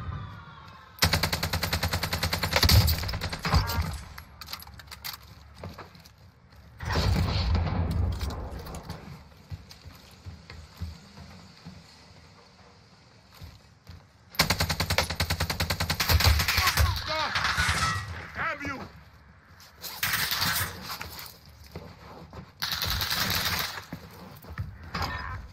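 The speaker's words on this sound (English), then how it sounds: "Who the hell is shooting me?" Rapid automatic gunfire from an AK-47 in Call of Duty Warzone rattles in repeated loud bursts separated by quieter gaps, with more shots and other game sounds throughout.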